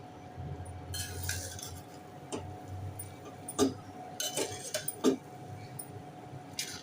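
Masale bhat rice stirred in a cooking pot, giving scattered scraping clinks of a spoon against metal, a few sharper taps standing out over a low steady background hiss.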